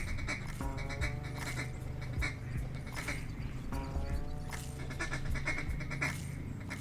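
A duck call blown with a rolling feed imitating several ducks on the water, rapid bursts of raspy quacking notes in quick runs, close and clear with no talking.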